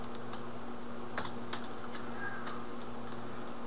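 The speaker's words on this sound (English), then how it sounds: "Okay, I keep hitting the wrong keys." Computer keyboard keys clack in sparse, irregular taps, close and fairly quiet over a steady low hum, as someone plays a Minecraft-style survival game.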